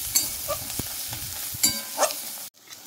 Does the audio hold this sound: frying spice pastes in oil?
yes